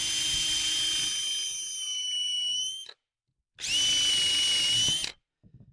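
A power drill with a countersink bit whines at high speed in two long bursts separated by a brief pause, close and loud with no talking.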